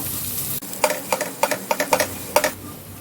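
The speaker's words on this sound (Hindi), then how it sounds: "अब इन सबको अच्छे से भून लेंगे। गैस को हमने लो मीडियम पे रखा है। कड़छी हम लगातार चलाएंगे" A sharp clatter as a ladle hits the pan, then quick repeated scraping strokes over a steady sizzle of ginger and chillies frying on low-medium heat.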